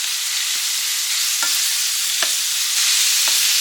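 Ingredients being stirred into a soup pot, with a few soft scraping strokes spaced out over a steady hiss of cooking.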